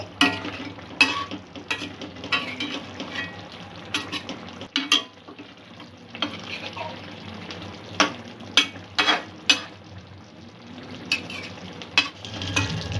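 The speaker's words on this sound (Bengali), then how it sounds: "সর্ষে বাটাটা দিয়ে 2-3 মিনিট ফুটিয়ে নেব।" Rohu fish curry with mustard paste, onion stalks and eggplant simmers in a pan with a soft bubbling hiss. A utensil scrapes and clinks against the pan at irregular intervals.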